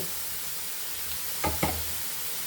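Chopped carrot, cabbage and onion dropped into a pan of meat: a faint low sizzle, then two quick soft thuds and scrapes close together near the end.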